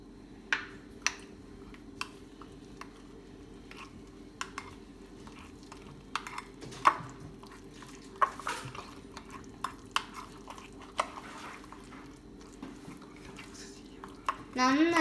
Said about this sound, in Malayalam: ഇനി നമുക്ക് മിക്സ് ചെയ്യാം.